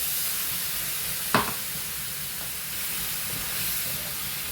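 A constant hot sizzle and hiss of water hitting a pan of tomato and bitter gourd curry, with a brief sharp burst of steam near the start.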